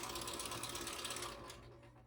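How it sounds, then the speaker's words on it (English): A standard sewing machine stitching across a large quilt makes a quiet, fast, even mechanical whir and clatter that fades slightly toward the end, with no talk. "I put the presser foot down, and I'm just going to sew across here."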